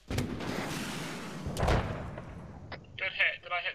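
Tank cannon fire in a military video game, likely aimed at a T-72: a loud, deep boom with a long rumbling tail, a second heavy blast after it, then brief voice chatter over radio-like static.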